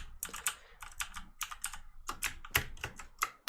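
Fingers type on a computer keyboard in quick irregular bursts of crisp clicking keystrokes with short pauses between runs, close and clear with no talking.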